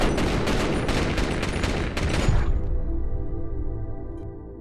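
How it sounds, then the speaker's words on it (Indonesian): Police gunfire in a Jason Statham action film: a loud, rapid volley of shots in a dense burst that breaks off after a couple of seconds into a fading rumble and ringing tail. "para polisi langsung duluan menembak Jojo sampai membuatnya tewas seketika"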